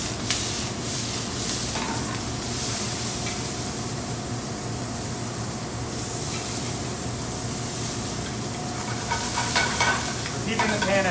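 Mushrooms sizzle steadily in a pan kept on high heat, a loud, continuous fry with scraping and tossing noises rising near the start and end.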